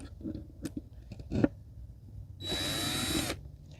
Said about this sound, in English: Oops, gotta make my drill go in, not out.